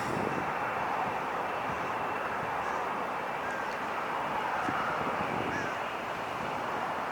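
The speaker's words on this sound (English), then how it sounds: "It's going to Charles de Gaulle Paris 787-9 Dreamliner." A Boeing 787-9 Dreamliner jet airliner bound for Paris Charles de Gaulle rumbles at an airport as a steady, broad engine roar with wind noise that holds constant throughout.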